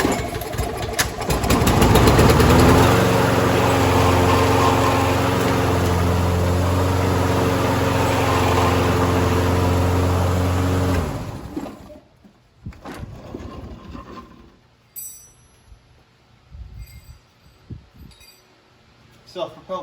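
Toro Personal Pace self-propelled lawn mower engine running loud and close with a steady harmonic drone for about eleven seconds, then cutting off, followed by quiet handling clicks and faint knocks.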